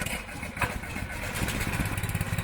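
A Barreto 712MTH hydraulic compact chain trencher's engine starts outdoors, a steady mid-pitched motor hum building and running continuously at close range with no talk.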